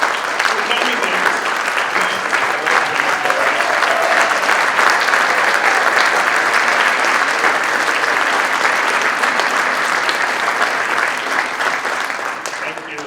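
A crowd at a Martin Luther King Jr. community breakfast applauds the school district's teachers, steady dense clapping that holds loud for about thirteen seconds and then starts to fade slightly.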